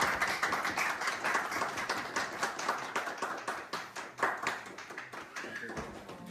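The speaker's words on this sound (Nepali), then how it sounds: "ल ताली ताली।" A crowd claps during a token-presentation ceremony at a snooker tournament in Nuwakot, with dense, uneven hand claps running throughout and voices mixed in underneath.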